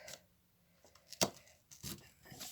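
Scissors snip through cardboard while a hole is cut for a teardrop wedding bouquet, giving a few short crisp crunches, one sharp louder cut near the middle, then quieter scraping.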